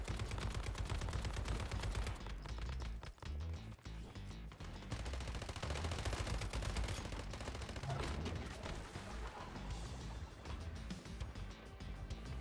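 Enemies fire with long range and a high rate of fire in the video game Once Human, producing dense, loud bursts of rapid automatic gunfire and overlapping shots that continue throughout, with game sounds layered underneath.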